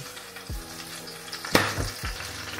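Homemade longganisa sausage sizzles steadily in a frying pan, with a few soft low thumps and one sharper clatter as pieces are carefully flipped; close and moderately loud, no talking.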